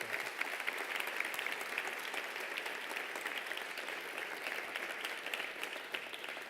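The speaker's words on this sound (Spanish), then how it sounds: "Un aplauso, por favor, para nuestro invitado." Sustained audience applause for guest Miguel Sebastián at the close of a Cornellà Creació Forum 2014 conference, even and fairly distant, without speech.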